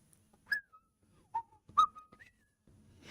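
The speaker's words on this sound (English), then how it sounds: "That was some decent whistling though, right?" A person whistles a tune in a few short, sliding notes with gaps between them, close and clear in a quiet room, followed by faint background noise at the end.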